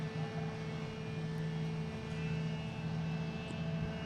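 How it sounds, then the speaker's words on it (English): An Emirates airliner passing directly overhead near Boston Logan, bound from Milan to JFK, a faint, steady distant engine drone with a low hum and no talking. "So that Emirates is directly overhead right now, heading to JFK"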